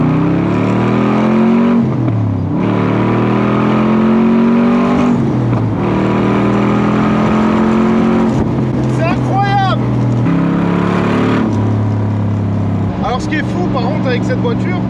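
Roaring exhaust of a 56-year-old 375 hp Corvette C2 V8 without a catalytic converter, heard from the cabin close to the pipe as it accelerates hard through first gear with rising pitch and shifts, loud and continuous.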